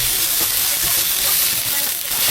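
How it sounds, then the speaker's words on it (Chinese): Green pepper strips stir-fried over low heat with scallion, garlic and chili bean paste in a wok, a steady loud broadband sizzle and hiss with faint scraping of the turner. "小火继续翻炒，倒入青椒丝"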